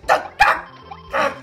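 A dog barks three times, sharp and close, inside the video game Kirby and the Forgotten Land. The middle two barks come in quick succession and a game tone hums beneath them.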